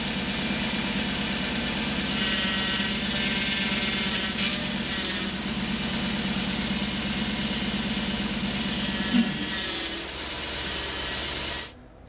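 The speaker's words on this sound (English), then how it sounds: "start turning the wheels to make the power steering system work" A Toyota Sequoia's engine idles steadily while the wheels are turned to run the power steering system during a fluid flush. A constant mechanical hum and whine carries on until it cuts off abruptly at the end.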